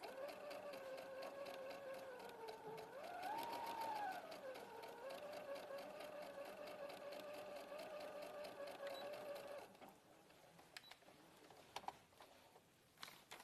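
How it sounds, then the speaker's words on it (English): A sewing machine stitches a seam on the right side of the fabric, running forward and back to lock the stitches, a steady close mechanical whir that briefly rises in pitch before it stops. "We're sewing on the right side. We're doing our forward and back at the end and start of each line to secure that stitch into place."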